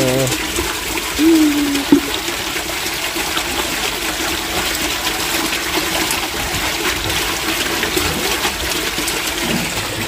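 Water swirls and drains away in a continuous broadband rush, with a brief gurgle early on, steady and fairly close throughout.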